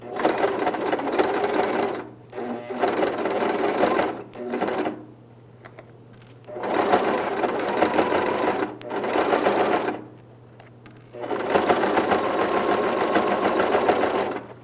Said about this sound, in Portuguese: Aí sim eu preciso fazer uma costura bem devagar nesse momento.